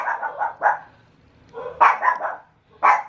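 A dog barks in short clustered bursts, a few quick yips, a pause, then more barks close by.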